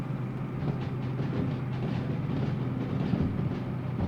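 A steady low rumble of a DM3 locomotive train rolling along rails after brake release in the video game Derail Valley, continuous and droning with a faint rhythmic clatter underneath, no voices.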